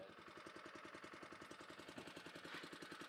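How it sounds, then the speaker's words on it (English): A small engine powers a gold highbanker outdoors with its sound-deadening lid removed, running at a steady idle with a fast, even putter of regular pulses throughout, moderately loud and alone. "So that's the engine running"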